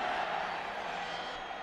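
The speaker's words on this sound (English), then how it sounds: "The crowd is really into it" Football stadium crowd during a Washington Huskies versus Utah Utes college game, a steady broad roar of cheering that holds at an even level throughout.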